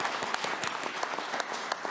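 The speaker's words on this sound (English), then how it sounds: "Would you give a round of applause to the panelists?" An audience at a panel discussion gives the panelists a round of applause, dense even clapping filling the room at moderate volume throughout.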